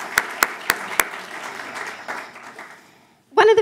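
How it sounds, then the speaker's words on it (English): Audience applause for a community at an evening event venue, a few sharp close claps standing out over a steady wash of clapping that gradually fades, then a brief burst of another sound at the end. "Oh yes, we can applaud as well for the community."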